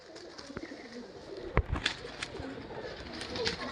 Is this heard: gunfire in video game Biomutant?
no